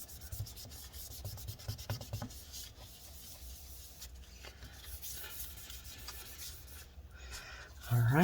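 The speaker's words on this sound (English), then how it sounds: "I'm going to clean up the rest up here again just to make sure everything is good and clean" Adhesive residue being wiped off the case of a 2017 13-inch MacBook Pro A1708, a close, steady rubbing and scrubbing with brief pauses, ending in a louder clunk.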